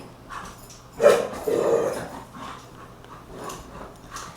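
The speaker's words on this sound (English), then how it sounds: "I want to apologize if y'all can hear my dog in the background." A dog gives a sharp bark followed by drawn-out whines and whimpers, moderately close, over a low background hum.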